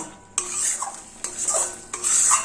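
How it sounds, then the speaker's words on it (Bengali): A paste of mustard, poppy seed and green chili is stirred with spices in a pan over a low gas flame, with three bursts of scraping and clinking from the spoon against the metal. "গ্যাসের ফ্লেম লোতে রেখে সর্ষে, পোস্ত, কাঁচা লঙ্কা বাটা এই মশলার সঙ্গে 1 মিনিট কষিয়ে নেব"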